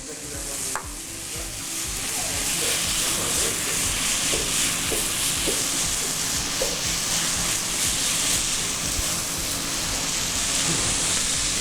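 Finely diced tomato sautés in a pan with other ingredients for a pirarucu fish stew, giving a constant, fairly loud sizzle that lasts throughout, with a few soft knocks of a utensil stirring.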